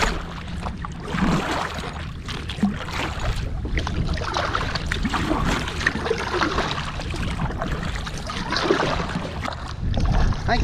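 Kayak paddling along Hunter Creek, a steady wash of water and wind noise with soft, irregular paddle splashes and dips, continuous and fairly loud with no voices.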